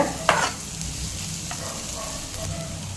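Onions with garam masala sauté over a medium flame for a goat brain fry, giving a steady close sizzle and a sharp scrape of stirring near the start.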